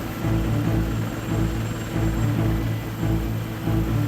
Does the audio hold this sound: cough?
no